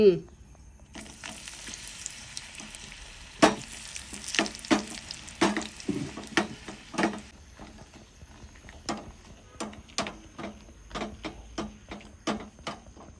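Oil sizzles and crackles steadily as dried curd chillies fry, with sharp popping bursts and a few louder clicks throughout.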